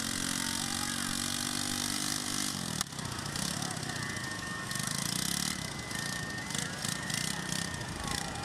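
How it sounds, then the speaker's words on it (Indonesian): An ATV engine on a seaside beach runs continuously, a rough, buzzy drone that steps up in intensity partway through, with surf and open-air noise around it and no clear talk. "keriangan anak ABG menggeber motor ATV di tepi pantai"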